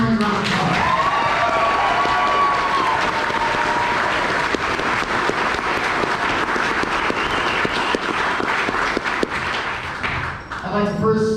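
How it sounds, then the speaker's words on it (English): Guests at a Marine graduation week dinner give a sustained round of applause, dense clapping filling the room with a few sharp louder claps, while a voice speaks briefly over it at the start. "So let's give your Marines a round of applause."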